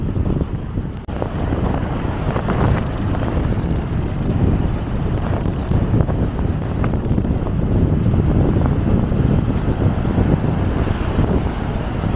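Strong wind blows hard on a beach, a continuous loud rumble buffeting the microphone with gusty surges and no pauses, heard alone without talk.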